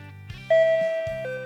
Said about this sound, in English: There's only one person who'd be ringing my doorbell this early.